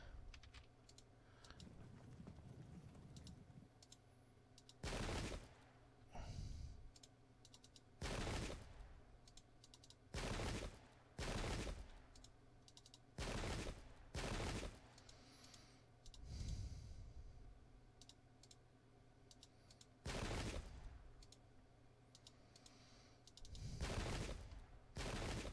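Musket volleys in the Pike and Shot video game, loud sharp bursts firing in irregular salvos every couple of seconds over a low ambient battle drone, with no voices.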